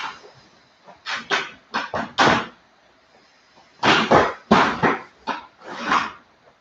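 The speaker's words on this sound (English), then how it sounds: "I apologize for the dog noises." A dog barking indoors during a yoga session, with two clustered bursts of several sharp barks each, fairly close and loud, separated by a quiet pause.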